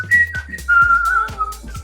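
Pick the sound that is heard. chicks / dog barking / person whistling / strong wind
person whistling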